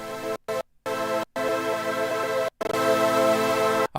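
A dense tonal music loop on an iPad is chopped by the Gatelab gate sequencer from Audiomodern into abrupt silent gaps, producing a stuttering rhythmic effect with quick sub-step cuts, loud and close with no voices.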